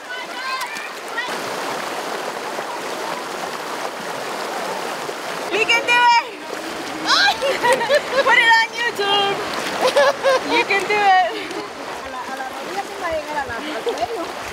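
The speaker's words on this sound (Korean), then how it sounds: "강물 위를 걷는 이 색다른 체험은 내셔널 지오그래픽이 선정한 미국인이 꼭 해보고 싶어하는 5대 모험에 들 정도로 인기가 있다." People wading and walking through a river with slippery rocks in Utah, with a steady rushing stream, then choppy splashes and sloshing steps close by, mixed with voices and exclaims.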